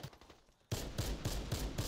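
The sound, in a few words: gunfire from the video game Warface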